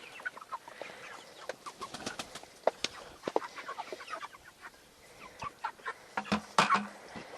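Large farm chickens cluck and peck while feeding on treats scattered on the ground, a busy run of short, close clucks and calls with no talking.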